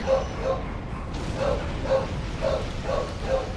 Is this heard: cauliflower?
no